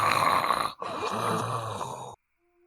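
A person imitates snoring with one long rasping inhale, a brief pause, then a second drawn-out snore that cuts off into silence, heard up close without other talk.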